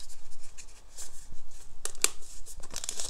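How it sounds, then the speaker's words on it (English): Brand-new tarot cards being shuffled, stiff papery riffles and crinkly scrapes in irregular bursts, close and soft, with a sharper flurry partway through and no talk. "it's very hard to shuffle."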